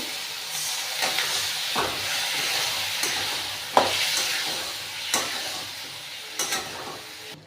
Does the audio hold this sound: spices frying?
yes